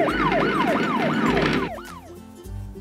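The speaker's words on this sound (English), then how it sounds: "P is for police car. Police cars have sirens." A police car siren wails in rapid, repeated rising-and-falling sweeps, loud and close, then shifts to short, steady tones in a brief cartoon-style scene.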